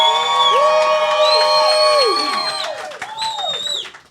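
Audience at a comedy roast event cheering and shouting: a loud, close crowd of whoops, yells and cheers that keeps going for several seconds before it fades.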